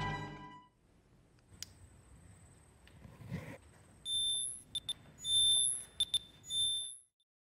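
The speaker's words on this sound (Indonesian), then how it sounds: "Shauna mendengar pengukur EMF berbunyi dengan sendirinya" An EMF meter sounds off on its own in a haunted house, giving a series of high electronic beeps in uneven bursts after a quiet stretch, loud and close with no talk.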